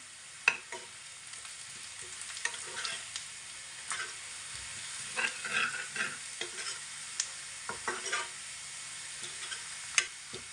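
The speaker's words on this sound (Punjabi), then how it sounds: "ਥੋੜੀ ਜਿਹੀ ਲਾਲ ਮਿਰਚ ਇਹਨਾਂ ਨੂੰ ਚੰਗੀ ਤਰ੍ਹਾਂ ਆਪਾਂ ਮਸਾਲੇ ਨੂੰ ਪਕਾ ਲੈਂਦੇ" Turmeric and red chili spices frying in a pan while being stirred for a curd tadka, a low steady sizzle broken by repeated scraping and clinking stirs, with no talking.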